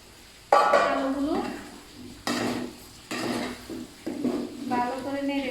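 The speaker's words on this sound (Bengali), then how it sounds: "ভালো করে নেড়ে দিচ্ছি" Meat and potatoes being stirred in a metal pot, loud clanking scrapes of a spoon against the pot in several bursts over a faint sizzle, with a voice speaking between them.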